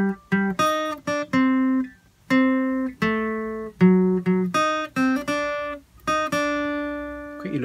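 An acoustic guitar plays a plucked single-note melody phrase from a song, with clear separate notes in an uneven rhythm. A final note rings out and fades.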